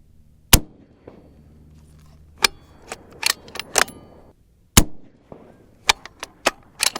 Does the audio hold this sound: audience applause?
no